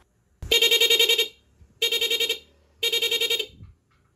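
A small car horn on a dual-horn setup wired through a relay sounds alone in three loud, bright beeps of about a second each, separated by short pauses.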